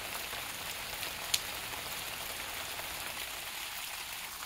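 Rain ahead of Tropical Storm Nicole falls steadily in Tallahassee, a light, even hiss of drops on surfaces with one brief sharper tap and no voices.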